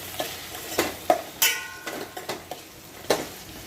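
Spoon stirring chili powder into a taro root curry in a pan, a few light scraping clinks against the metal spaced unevenly amid a faint sizzle, close and quiet with no talk.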